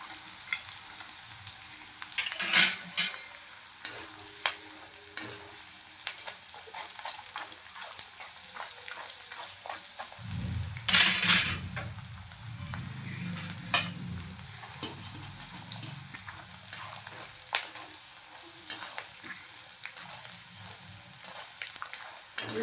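Edible gum (dink) fries in hot oil for dry fruit ladoos, a continuous close crackling sizzle with occasional louder bursts and stirring clicks throughout.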